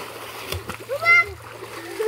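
A child splashes in a village pond while swimming, giving a few brief sloshing bursts close by as a voice talks over them.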